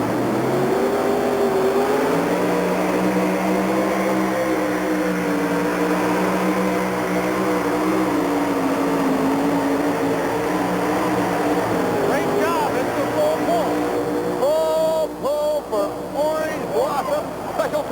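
A monster truck engine roars loud and steady at a 1987 USHRA truck pull in the Minneapolis Metrodome, its pitch climbing and wavering as the truck strains. An announcer talks over it throughout.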